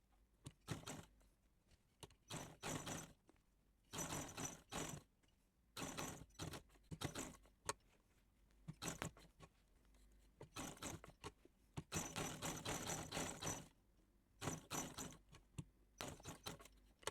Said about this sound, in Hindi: अब हम इस पे इस साइड पे भी सिलाई लगा लेंगे